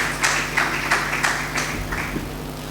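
Members of a church congregation clap during an evangelist's sermon, a modest run of rhythmic, fairly close hand claps in a hall with a low background hum.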